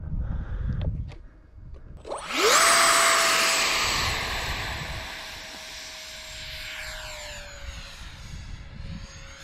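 A Jetworks Drake III RC jet with an FMS 64mm ducted fan on a 4S battery spools up into a loud, steady high-pitched whine after a couple of seconds. The whine then holds nearby with slight pitch shifts, and there is no talk.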